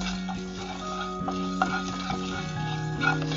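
Sambar ingredients dry-roasting in a pan with no oil, stirred steadily so they scrape and rustle against the metal with faint, brief clinks, close and continuous.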